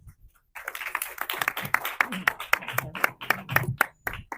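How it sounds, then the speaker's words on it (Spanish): Hand clapping at a talk about the film Orlando, My Political Biography, starting after a short quiet gap and running as a close, uneven burst of claps from a few people. "Preciado, le doy un gran aplauso por este film"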